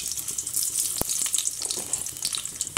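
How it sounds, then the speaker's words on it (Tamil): Mustard seeds dropped into hot oil in a pan while cooking snake gourd stir-fry, giving a steady bright sizzle and crackle with two sharp pops standing out. "எண்ணெய் சூடாயிடுச்சு கடுகு சேர்த்துக்கலாம்"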